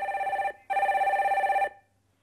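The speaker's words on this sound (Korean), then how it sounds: "두 번째 전화 빨리 받아보겠습니다" A telephone rings for an incoming call with two electronic bell bursts, the second longer, clear and close before falling silent.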